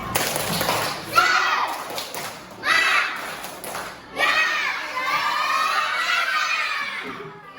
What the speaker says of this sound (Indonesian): ibu mau kita tepuk semangat dulu satu kali